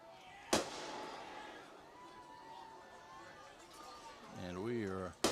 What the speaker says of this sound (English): A few more fireworks firing off